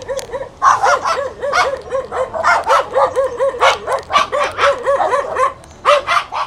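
A pack of dogs barks loudly and close by in rapid, overlapping bursts, with high yips and whimpers mixed among the barks throughout.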